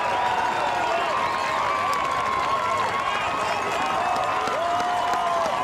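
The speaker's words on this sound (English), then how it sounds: "Listen to the crowd." A baseball crowd roars after the final strikeout of the game, a sustained, fairly loud cheer and applause from a large stadium audience, with a commentator's voice audible over it.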